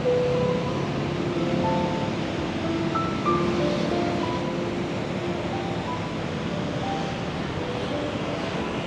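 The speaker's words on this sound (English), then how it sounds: "but it's nice and windy actually." Steady broadband wind rush at the seashore in Da Nang, Vietnam, in the rainy season, with a dull surf roar underneath, constant and fairly loud, with faint tonal hums drifting through.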